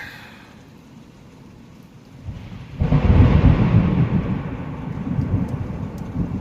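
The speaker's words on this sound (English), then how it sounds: "Thunderstorms." A low rumble of thunder swells and rolls on loudly over a steady hiss of rain, staying heavy to the end.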